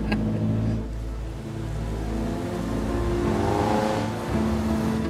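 A truck engine rumbles steadily and loudly throughout, its low drone swelling as the vehicle draws nearer, with a rising whine midway before it settles back into the heavy roar.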